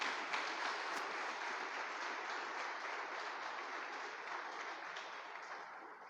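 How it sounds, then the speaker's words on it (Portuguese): Church congregation at a Sunday celebration service applauding, a dense, continuous wash of clapping from many hands that slowly fades, fairly faint and distant with no talk over it. "Você pode aplaudir ao Senhor por essa palavra em nome de Jesus?"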